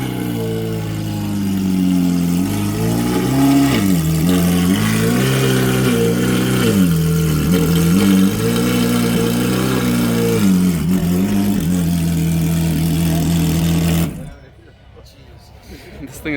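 A Ferrari race car engine at a car show rumbles loudly and nearby, revving in repeated rising and falling swells before cutting off abruptly near the end; voices speak over it.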